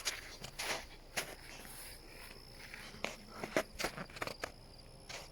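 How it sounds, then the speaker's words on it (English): Crickets or frogs chirp at night by a lake at an overnight truck camping spot, a faint, steady insect-like trill with soft crunching footsteps breaking through now and then. "The frogs and stuff sound nice. Frogs or crickets or whatever it is."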